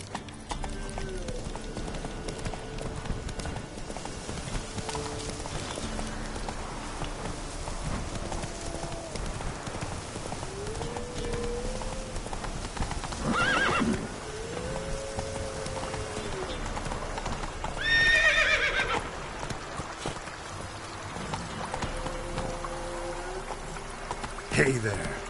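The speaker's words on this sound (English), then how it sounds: "Giddy up. Not so fast, Roach." In The Witcher 3 video game, a horse's hooves clip-clop in a steady rhythm throughout, with occasional whinnies and speech in the background.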